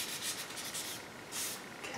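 Two-part polyester glazing putty over paint runs is sanded, a close rasping scrub that swells in strokes, with two louder passes standing out over a steady abrasive hiss.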